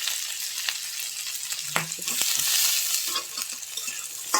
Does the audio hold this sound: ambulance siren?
no